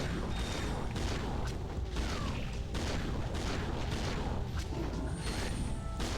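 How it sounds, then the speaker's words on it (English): Blitz cannon fire in Ratchet & Clank: Going Commando, loud repeated booming blasts mixed with mechanical clanks and crashing impacts from the game, dense and continuous with no speech. "my blitz cannon is pretty good at dispatching enemies in this area"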